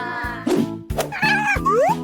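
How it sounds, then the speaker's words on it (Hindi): Cartoonish cat meows in a cooking challenge game, several bright, pitch-sliding mews in quick succession over a bouncy, boing-like backing, close and clear. "अरे देखो, कितनी प्यारी बिल्ली है।"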